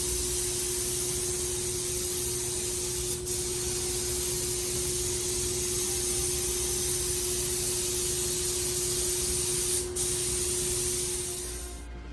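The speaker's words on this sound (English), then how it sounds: "I don't stop my spraying stroke on a seam" Paint spray gun hissing steadily as it coats a car in a custom monster build, a continuous close, loud airy spray lasting throughout with brief dips where the stroke pauses.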